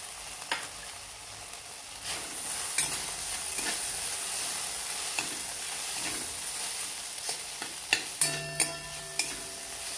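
Sabudana khichdi stir-frying in a pan, giving a bright, constant sizzle with spatula scrapes throughout and a few sharper clinks toward the end, close and alone without speech.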